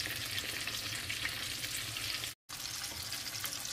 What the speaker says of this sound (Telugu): సో వంకాయలు అయితే ఇవి కూడా ఫ్రై అయిపోయాయి అన్నమాట.